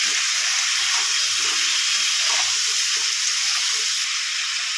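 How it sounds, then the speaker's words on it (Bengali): Cauliflower frying in a pan, a constant bright hiss of hot oil sizzling close up, even and unbroken, with no voices. "ফুলকপিগুলোকে একটু ভালো করে ভেজে নেব"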